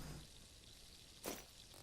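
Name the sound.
pouring liquid, from the video game Blight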